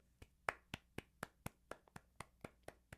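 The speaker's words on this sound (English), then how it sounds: "This is a round of applause." A round of applause in the form of steady, sharp hand claps, about a dozen crisp claps in an even rhythm, fairly close and alone with no talking.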